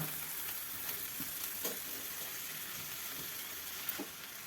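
Grated radish being stirred into a vegetable in a pan, a steady close sizzle with soft scraping and occasional clinks of the spoon, no voices.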